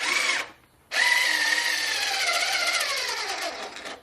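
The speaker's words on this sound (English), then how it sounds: "I'll be using another 1 1/2 inch pocket hole screw." A power drill drives a 1 1/2 inch pocket hole screw into wood. After a short whine and a brief pause, a long, loud, steady motor whir continues, slowing slightly toward the end.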